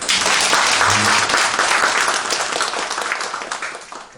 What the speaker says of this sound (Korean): 오늘 와주고 오셨는데 박수 한번 쳐주세요